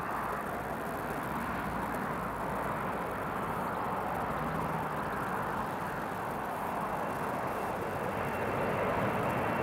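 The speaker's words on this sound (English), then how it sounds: "KLM, Emirates. Just heading down the runway now." KLM and Emirates airliners at Newcastle International Airport, a steady broad engine roar heard from a distance, rising slightly toward the end.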